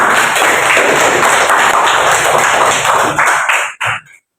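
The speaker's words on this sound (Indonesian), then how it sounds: "Tepuk tangan untuk kita semua." Loud, dense classroom applause from a group of students, a continuous close wash of claps that cuts off abruptly, followed by a brief final burst.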